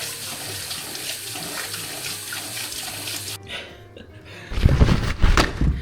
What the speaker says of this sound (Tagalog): Hugasan ako ng kamay.